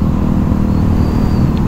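A Suzuki DRZ 400SM supermoto motorcycle engine running: a loud, steady low throb with a rough, pulsing idle texture, close and alone.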